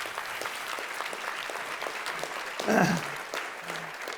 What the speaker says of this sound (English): I'll accept that applause on their behalf.